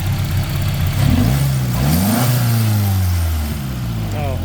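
A car's TBI (throttle body injection) engine runs at idle with an aluminum valve cover, a loud steady rumble with a few rises in pitch as it revs slightly, recorded close up.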